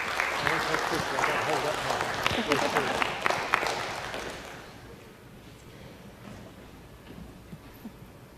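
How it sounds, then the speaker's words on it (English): City council chamber audience claps for Red Ribbon Week, a brisk round of applause with sharp individual claps that tapers off after about four seconds, leaving murmuring voices and room noise. "All right, let's give it a round of applause."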